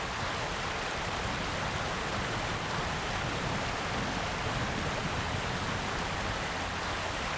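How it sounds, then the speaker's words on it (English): Waterfall in the SnowRunner truck game, a dense, steady rushing roar of falling water filling the scene without pause, loud and unbroken, with no speech. "I don't want to fall down the waterfall."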